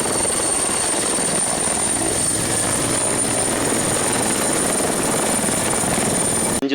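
A toy helicopter whirs continuously with a loud, steady, buzzing rotor drone held close, with no talking over it.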